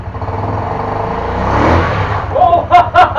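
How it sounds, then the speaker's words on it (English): A rebuilt custom scooter engine idling unevenly in a garage, a loud close lumpy throb with stuttering beats that rises, then gives a few sharp revs at the end. "we have a running motorcycle, albeit a bit lumpy"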